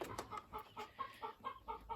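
Small young Marans chickens cluck in a steady run of short, repeated calls, close by and moderately loud, with no voices over them.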